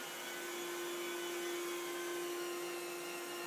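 A professional carpet cleaning vacuum runs continuously with a steady, even motor whine and hiss, moderately close, with no talking over it.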